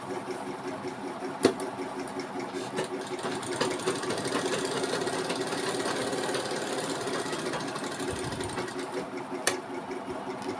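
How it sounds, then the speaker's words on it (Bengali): A sewing machine runs continuously, stitching a seam along fabric with a fast, even mechanical chatter, heard close, with a couple of sharp clicks and no talk. "পাশে আর একটা সেলাই দিয়ে দিলাম।"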